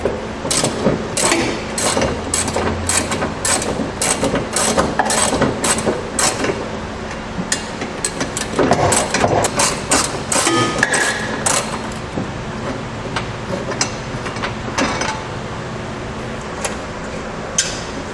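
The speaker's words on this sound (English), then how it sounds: "So I'll use a 14mm socket to get those removed." A ratchet with a 14mm socket loosens the tow hook bracket bolts on a 2018 Mitsubishi Outlander, producing close, rapid, rhythmic clicking in repeated bursts with occasional metallic knocks.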